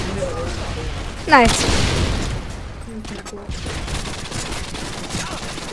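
Gunfire in Modern Warfare 2 as a player shoots a mine, a loud burst of shots near the start followed by continuing battle noise, with players talking over it.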